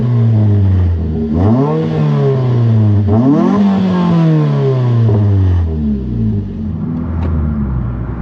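A neglected Suzuki Swift Sport heard from inside as it drives, its engine revving up through the gears in rising sweeps with shifts between them, loud and close with no talk over it.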